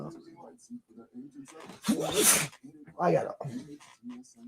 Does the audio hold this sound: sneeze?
yes